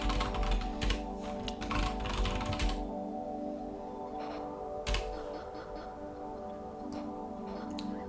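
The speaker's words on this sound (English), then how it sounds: "open up the terminal and type in sudo apt install Open Vpn and resolve" Computer keyboard keys tapped while entering a Linux terminal command, a quick burst of clicks in the opening seconds followed by a few sparse, isolated taps against a steady background hum.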